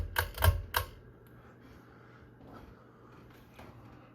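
Three sharp clicks in quick succession come from the pull chain of a Litex Gaskin 24-inch ceiling fan, then a faint, quiet room hum follows.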